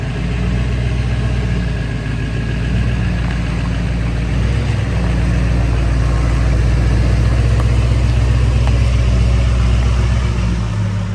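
A lifted Isuzu D-Max truck runs close by with a loud, steady low engine rumble, the idle holding and swelling slightly as it pulls out.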